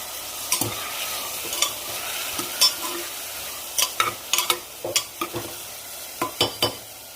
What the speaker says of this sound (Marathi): तो पण छान परतून घेते. आणि त्याच्यामध्ये लगेच मूग डाळ टाकून घेते.